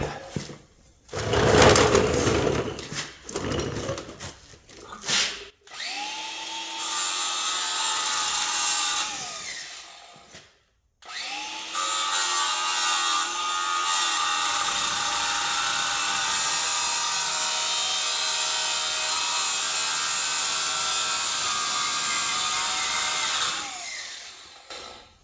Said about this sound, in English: If not, I'll take the little die grinder and cut it the rest of the way.